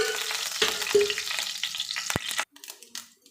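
Oil heats in a pan for tempering, crackling with a soft steady sizzle and a few sharp clicks, close and fairly quiet, then cutting off to near silence with faint ticks.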